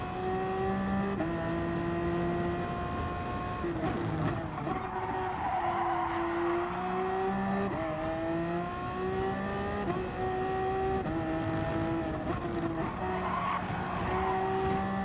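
Gr.1 prototype race cars in Gran Turismo Sport at Laguna Seca, tyres squealing in long wavering skids over loud engine drone, repeated pitch sweeps as the cars brake and slide through corners, continuous and close.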